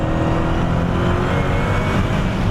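A 2018 Dodge Challenger Hellcat Widebody roars loudly at speed on a track, a high supercharger whine riding steadily over the deep rumble.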